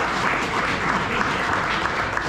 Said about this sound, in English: I think that deserves an applause right there.